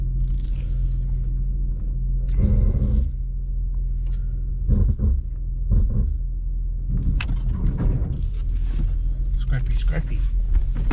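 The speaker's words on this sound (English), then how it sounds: "sounds like I've got a little bit of an exhaust leak" A Nissan G35 with an exhaust leak gives a low, steady engine rumble throughout, under bursts of talking.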